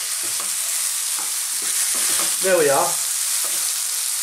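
Chicken and mushrooms sizzle steadily in a pan for a tomato pasta sauce, with occasional stirring scrapes and a short spoken phrase over the frying.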